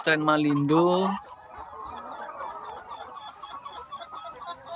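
A Malindo laying-hen chicken clucks loudly and close at the start, then fades into a busy background of softer fowl murmuring and scattered clucks.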